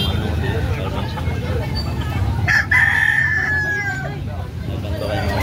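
Roosters and chickens at a poultry sale in Carmen market, Cebu, with one clear rooster crow rising above a steady crowd babble and nearby talking.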